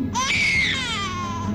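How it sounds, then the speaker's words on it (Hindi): A baby girl cries loudly and continuously, a high, wavering wail held close and upfront with no talk over it. "हमने एक बच्ची के रोने की आवाज सुनी"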